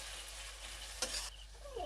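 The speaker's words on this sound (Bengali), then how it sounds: "এখন এটা ভালো করে নেড়েচেড়ে কষতে হবে" Spices, including turmeric, chilli, coriander and cumin powders, sizzle steadily in a pan while being stirred and fried for an egg curry, with a brief scrape of stirring partway through.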